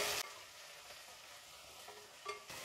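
Garlic, onions and curry leaves sizzle softly in a pan for a few seconds, with a couple of brief stirring scrapes, close and quiet.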